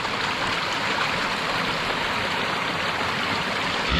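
Steady, loud rush of water flowing into a beaver pond at a camp, a continuous broadband wash with no breaks and no voices.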